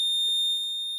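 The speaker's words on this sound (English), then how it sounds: "When you connect the panel, you have the beep all the time." A power relay board gives a continuous, steady high-pitched electronic beep once its panel is connected, a loud, unbroken tone close to the microphone with faint background handling noise beneath.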